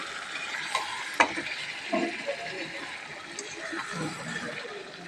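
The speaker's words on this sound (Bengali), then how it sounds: "এই দেখো মাংসটা কষাচ্ছি" Meat being braised and stirred in a pan, a soft sizzle with scattered scraping and clinking of a spoon against the metal, fairly quiet and steady throughout.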